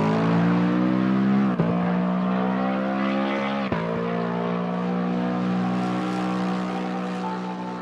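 The engine of a Japanese GT race car in Assetto Corsa Competizione drones steadily outside the car, a loud buzzing tone that climbs through the gears with two brief shift breaks.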